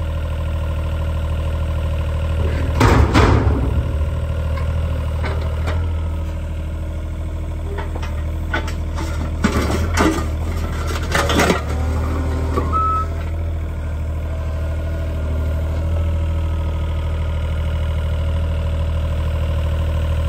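A truck engine idling steadily while hitched to a trailer on a driveway job, a constant low drone throughout with a few clunks and rattles, no talking.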